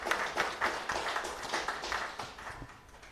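Audience applause at a pharmacists' presidential debate event: a steady, fairly quiet patter of many hands clapping together for about three seconds, no voices over it.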